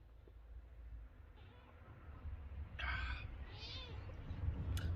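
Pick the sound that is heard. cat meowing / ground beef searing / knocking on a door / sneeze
cat meowing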